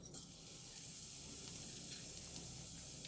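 Asafoetida (hing) dropped into two tablespoons of heated oil for a cabbage potato curry, giving a steady, close sizzle and hiss with no talk.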